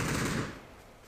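Gunfire in a shooting video game, a short dense burst of rapid shots that fades after about half a second.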